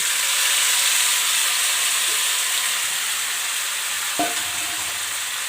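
Garlic fries in a hot pan with a loud, constant sizzle, then soaked dal is tipped in with a single knock and the hiss softens slightly as it gets stirred.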